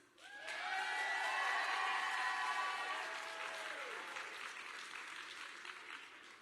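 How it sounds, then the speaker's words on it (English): Audience applause and cheering for graduates at the Garrett Morgan School of Engineering and Innovation 2023 graduation ceremony, a dense roar of clapping with whoops and whistles that swells quickly, peaks, then eases into steady sustained clapping. "Let's give a very loud round of applause to our graduates."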